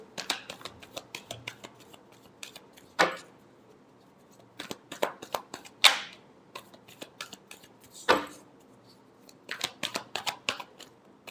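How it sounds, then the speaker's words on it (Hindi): Tarot cards are shuffled by hand during a love reading, giving quick riffles and sharp snaps in irregular clusters, with a few louder slaps standing out, close and without speech. "last shuffle"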